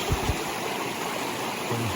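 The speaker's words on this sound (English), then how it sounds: "Just a nice little, pretty strong flowing creek." A strong creek, likely swollen with rainwater runoff, rushes beside the Appalachian Trail, giving a steady, close, full-bodied roar of flowing water with no voices.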